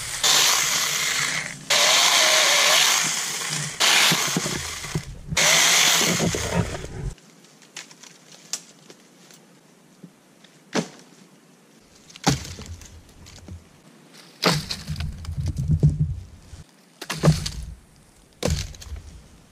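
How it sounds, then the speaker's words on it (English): A small cheap battery-powered electric chainsaw whines loudly in several bursts as it cuts wood in a forest, with quieter pauses and scraping between cuts. "For a cheap little electric chainsaw, tell you what, it's worth it."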